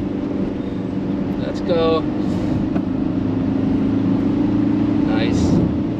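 A Ford Transit van's engine drones steadily while lapping the Nürburgring, with a short rev change near the middle, heard under cabin noise while people inside talk briefly.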